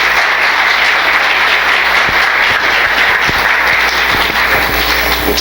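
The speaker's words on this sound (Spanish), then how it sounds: "Un aplauso, por favor." Audience applause fills a conference hall at an international forum on innovation and law, a steady dense wash of clapping running throughout without pause.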